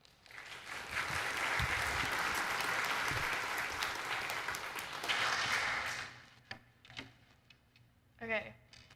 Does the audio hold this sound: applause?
yes